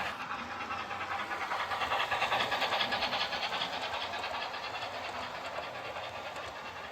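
Model trains rolling steadily along a superelevated curved track on a model railroad layout, a continuous whirring hum and faint rhythmic clicking, moderately near and unaccompanied by voices.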